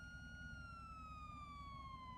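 An EMS vehicle siren in a GTA roleplay game wails steadily with a clear, slowly falling tone, loud and continuous for the whole stretch.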